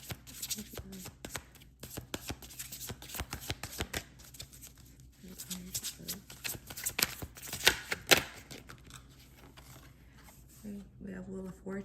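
Tarot cards being shuffled by hand, a fast run of crisp riffling snaps and slides with a few brief pauses, close and fairly quiet with faint room noise.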